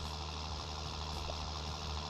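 Tractor engine in Farming Simulator 19 labouring steadily up a hill, a continuous low droning hum with a constant level and no breaks, heard alone.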